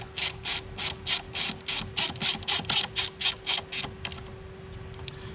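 A ratchet clicks in a quick, even series of about a dozen strokes while tightening a clamp on the auxiliary fuel line of a 2012 Volkswagen Jetta TDI, then slows to a few faint clicks, with a steady hum beneath.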